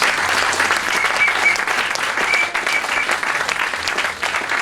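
A church congregation claps and cheers in praise during a French-language worship service, a lively, sustained burst of many hands clapping with scattered voices in the room throughout the few seconds.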